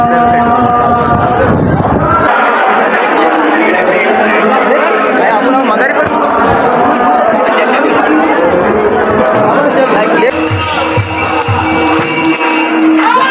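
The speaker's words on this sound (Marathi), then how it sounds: "गर्दी तर आहे." Dense crowd chatter and babble in the queue at Ekveera temple in Lonavala, loud and close throughout with many overlapping voices and wind buffeting the microphone.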